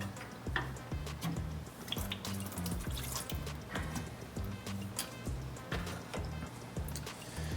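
Coolant from a 1976 Mercury Comet drains steadily into a bottle, a continuous close trickle with uneven gurgling bursts, no voices.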